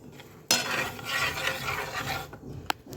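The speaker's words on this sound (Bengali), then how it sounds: "মুগের ডাল ভাজছি" Moong dal being dry-fried in a pan gives a steady, close scraping rustle as it is stirred, ending with a sharp clink of utensil on metal.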